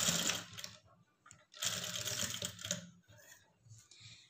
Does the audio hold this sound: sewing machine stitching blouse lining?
yes